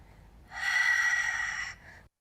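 A sharp audible inhale during a Pilates exercise, a single breath rising quickly, held about a second, then fading, close and quiet with no talk.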